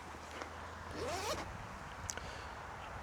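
The zipper on a zipped pocket of a camera sling bag is pulled open in one quick, close zip that stands alone over quiet room tone.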